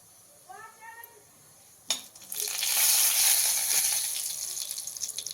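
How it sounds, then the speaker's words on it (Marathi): A leafy vegetable added to a pan with a little oil and cumin, a sharp clatter followed by a rising close hiss of sautéing that stays loud and then eases slightly, with a brief voice-like sound before it. "आपल्याला भाजी परतून घ्यायची कमीच तेलात"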